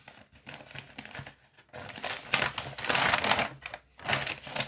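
Several paper envelopes handled up close, with bursts of crisp crinkling and rustling that swell and fade in uneven waves, interrupted by brief quiet gaps and no speech.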